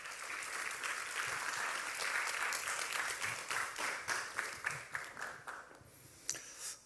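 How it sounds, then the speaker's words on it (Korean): Audience applause welcoming a speaker at a gospel revival gathering, a fairly quiet, steady crowd clap that thins into scattered individual claps and fades out toward the end. "큰 박수로 환영해 주시기 바랍니다."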